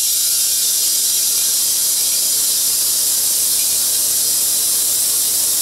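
Steady, loud hiss of air being blown into a tractor tire through its valve after priming, continuous and unbroken with no talk.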